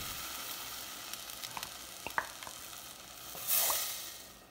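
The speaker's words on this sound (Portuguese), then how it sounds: "Vou colocar o leite condensado aqui na panela" Condensed milk heats in a pan for a vanilla brigadeiro, giving a soft continuous sizzle with a few small clicks and taps from utensils, then a brief louder hiss near the end, with no talking.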